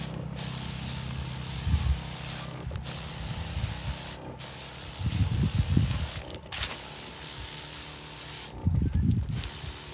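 A hand sprayer mists foliar fertilizer onto plants in several long, hissing bursts separated by short gaps, close to the microphone, with low handling thumps between sprays.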